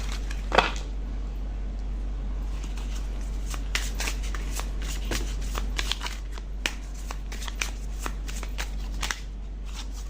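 Tarot cards shuffled and laid out on a table during a reading: a steady run of crisp, rapid riffling and soft slaps, with sharper snaps as individual cards are placed, close and moderately loud, no voices.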